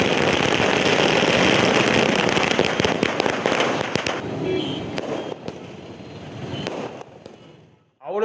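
Firecrackers bursting at a farmers' celebration in Thanjavur, a dense crackling barrage of rapid pops that thins into scattered sharp bangs before stopping, with a voice speaking over it.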